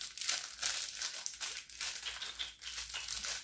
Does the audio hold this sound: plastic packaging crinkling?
yes